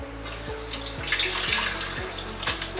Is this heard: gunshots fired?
no